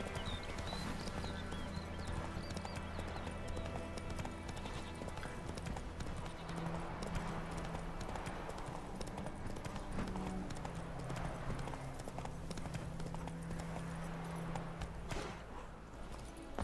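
Roach, the horse in The Witcher 3, clip-clops steadily on hooves throughout, a continuous walking rhythm close by with a brief whinny-like tone, set against game ambience and music.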